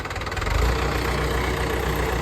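Close, steady idle of a tractor engine, a continuous low rumble with a slight throb and no voices, lasting only a couple of seconds.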